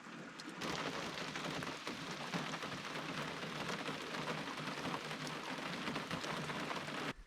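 Rain falls steadily on a solo wilderness camp in the woods of Woodland Caribou Park, giving a dense, continuous patter that starts after a brief quieter moment and stays faint and even throughout, with no voices.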